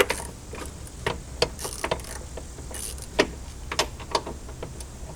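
A ratchet with a 6-inch extension and deep well socket works on a 2015 Jeep Grand Cherokee's upper control arm, giving irregular close metallic clicks and clacks over a dull background.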